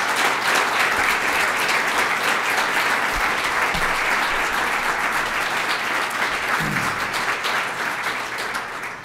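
An audience applauds culinary arts students at a school district's state of the schools address, a steady, dense wash of many hands clapping that holds for about nine seconds before tapering slightly at the end.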